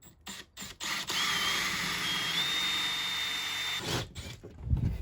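A power drill whirs with a rising whine as it bores into a camper van panel for a switch, framed by short clicks and bursts of handling noise before and after.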